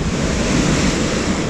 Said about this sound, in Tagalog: Grabe naman na alon yan!